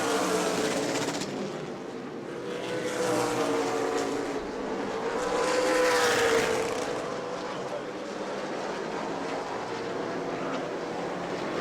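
Super Late Model race cars roar around the New Smyrna track during a Sunbelt Series 100-lap race, engine noise swelling and fading as cars pass, with a commentator talking throughout.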